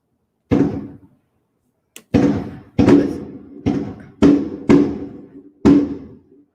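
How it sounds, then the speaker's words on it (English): Fireworks go off outside, a series of about seven sharp booming thumps spaced unevenly over several seconds, each decaying quickly, fairly loud against otherwise silent surroundings. "That's fireworks, y'all."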